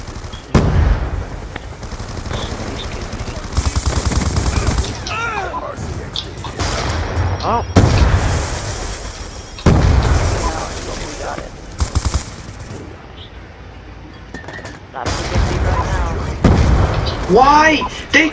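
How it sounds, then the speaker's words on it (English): Call of Duty Black Ops 2 multiplayer combat, with loud bursts of rapid gunfire and booming grenade and Semtex blasts repeating through the fight while a player talks excitedly over it. "I got hit with two Semtexes, hit with like three EMPs and concussions, then a freaking grenade."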